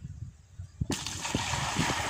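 Water sloshes and splashes up close as it is fetched from a water source in Namibia, starting faint and then surging into a steady rushing pour with occasional knocks.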